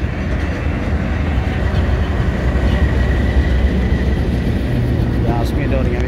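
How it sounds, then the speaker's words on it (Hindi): A train pulls into the busy Pakpattan railway station with a loud, continuous rumbling roar of wheels and carriages, while voices are heard nearby. "लो जी गड्डी आ गई है।"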